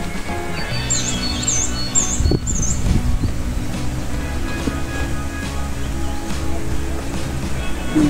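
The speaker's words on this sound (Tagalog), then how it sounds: "Habang maakyat kami, maririnig iba-ibang huni ng mga ibon." Several birds chirp and call on a mountain hiking trail, a repeated bright whistle standing out early, over a steady low rumble of an engine or outdoor ambience.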